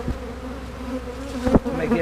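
Bees inside an abandoned hive box give off a steady close droning buzz with a low hum throughout, and a couple of brief knocks and rustles break in near the end.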